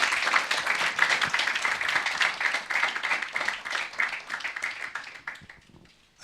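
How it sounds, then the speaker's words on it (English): A seminar audience at a 2017 Stop Funding Hate talk gives steady, dense applause for about five seconds, then it thins and fades out with a few last claps. "Let's give Richard a round of applause."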